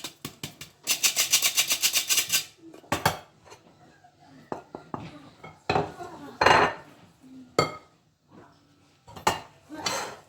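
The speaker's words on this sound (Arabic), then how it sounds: "دابا غندوز نغربل الخمارات 2" Baking powder for a lemon and orange cake shaken through a metal sieve, a quick rhythmic rattling burst followed by scattered clinks and taps of utensils against a bowl, close by.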